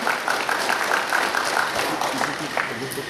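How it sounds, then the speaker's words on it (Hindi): Dense, steady applause from a conference crowd fills the whole stretch, a continuous wash of clapping without pauses. "जोरदार तालियों से उनका स्वागत किया जाए।"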